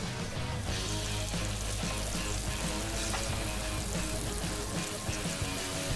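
Thin potato slices deep-frying in a pot of oil, a dense, even bubbling sizzle that stays loud and close for the whole stretch, with no voices.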